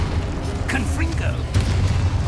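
In Hogwarts Legacy, a Confringo blast spell lands with a low rumbling boom and fiery bursts, while a player talks over the game sound.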